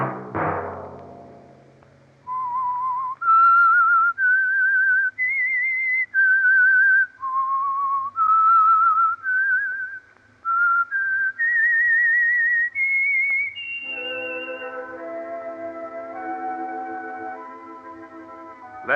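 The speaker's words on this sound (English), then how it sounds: "Let that whistle be your signal for the Signal Oil program, The Whistler" A man whistles the theme signal of The Whistler radio program, a clear solo melody of sustained notes that ends as an orchestral chord swells in beneath.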